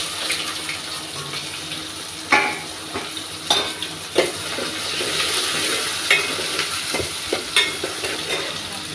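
Okra sizzling in a pan with mustard seeds, a steady frying hiss punctuated by several sharp clacks and scrapes as it is stirred.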